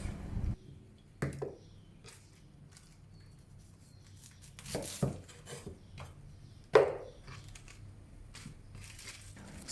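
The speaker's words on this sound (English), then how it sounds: "Chop off the part near to the stem" A knife chops through Chinese cabbage quarters on a cutting board, cutting off the hard stem end, with a handful of separate sharp, close thuds and crunches spaced apart by quiet pauses.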